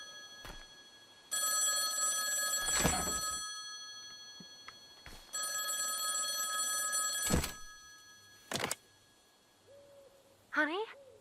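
A telephone rings inside a British phone booth in the video game Lempo, two long bursts of bright electronic ringing separated by pauses, with a few thumps and a brief voice near the end.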